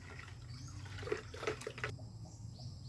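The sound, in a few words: pesticide powder being stirred into water for sprayer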